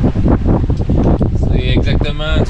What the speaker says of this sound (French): Là, on a un vent d'est.